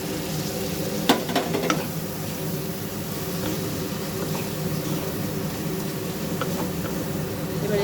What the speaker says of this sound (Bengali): এবার এর মধ্যে আমি চিংড়ি মাছগুলো দিয়ে দেবো